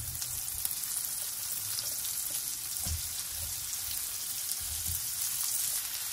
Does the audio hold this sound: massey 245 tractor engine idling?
no